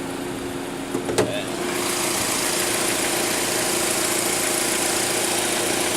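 A 2.4-liter car engine idles with a steady, even hum after a brief clunk and click at the start; no voices.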